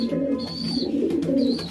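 Pigeons coo softly in a shed holding many birds, low repeated throaty calls overlapping close by, with faint higher chirps between them.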